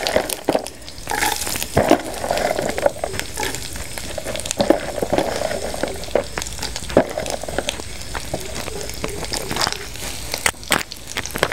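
Fresh coconut pieces fry steadily in a pan, giving a continuous crackling sizzle with small pops and occasional stirring scrapes.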